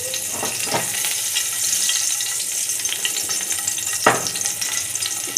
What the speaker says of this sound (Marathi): आता आपण फ्राय करून घेऊया. तापत ठेवला आहे मी पॅनवर